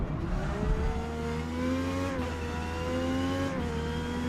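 Racing car engine in Forza Motorsport revving steadily, its pitch rising and falling through gear changes with faint tire noise, loud and continuous with no talk.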